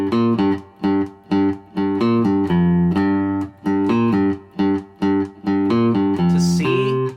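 Guitar riffs played alone, clear and close, with short, evenly spaced plucked notes and a few ringing sustained ones, ending on a brighter strummed chord.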